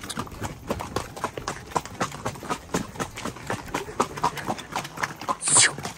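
Horse hooves clip-clop in a quick, steady rhythm as horses pass during a cavalcade, loud and close, with a brief high squeal near the end.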